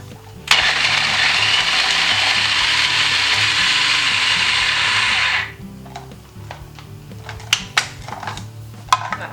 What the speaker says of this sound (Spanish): Y picamos.